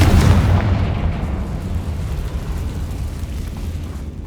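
A Confringo fire spell explodes in Hogwarts Legacy, a loud low boom at the start that rumbles and slowly fades over several seconds, with no talk.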